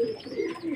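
Male pigeons coo in short, low, throaty bursts, close and clear, with no talking over them.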